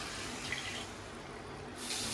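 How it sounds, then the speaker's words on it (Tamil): Water poured into a pan of fish curry cooking on a home stove, a steady broadband splashing and running-water hiss lasting a couple of seconds at close range with no talk. "இப்போ நம்ம நல்லா தண்ணி ஊற்றிக்கலாம்."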